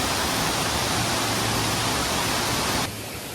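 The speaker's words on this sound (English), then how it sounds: "You can't beat a good waterfall, can you?" A waterfall in Laos pours in a constant, dense roar of rushing water, loud and near, dropping slightly in level near the end with no voices.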